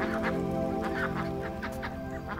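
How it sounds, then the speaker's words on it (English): Ducks quack in a lively flock, overlapping honking calls repeating rapidly and close by over a constant drone, with no talk. "Ducks bring life to waterways with their cheerful quacking."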